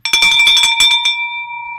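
A handheld bell is rung in celebration in a real estate investing studio, several rapid clangs followed by a long ringing tone that fades slowly, loud and close.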